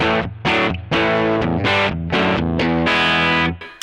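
Gibson Les Paul Standard on its bridge pickup, played through a Boss OD200 drive pedal with flat EQ: a sequence of loud, saturated distorted chords and riffs, about eight struck phrases with short gaps between them and a sustained ring at the end.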